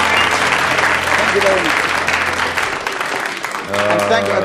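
A studio audience at a BBC radio comedy panel show applauds the winner, loud sustained clapping filling the room while someone speaks briefly over it.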